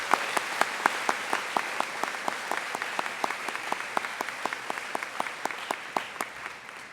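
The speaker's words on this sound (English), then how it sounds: "So can we give them a round of applause?" Steady applause from a sizable crowd at a high school graduation ceremony, many hands clapping evenly for several seconds at a moderate distance.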